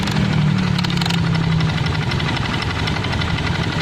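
A Honda Beat FI motorcycle engine idles close by with a steady, rough, rapid knocking rhythm, from an engine fault.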